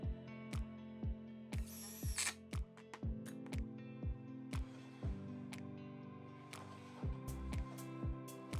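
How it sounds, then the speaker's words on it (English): Power drill driving self-tapping screws into the bottom of a router flattening sled frame, with repeated short whirring bursts and ratcheting pulses, close and fairly loud, each followed by a brief pause. "I'm using self-tapping screws here. They cut their own holes as I drive the screws in."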